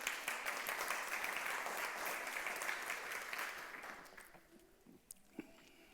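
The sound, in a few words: applause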